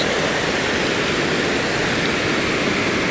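Loud, steady rushing of a water current pouring over a mini dam beneath a bridge, a dense continuous roar that fills the whole stretch without pause.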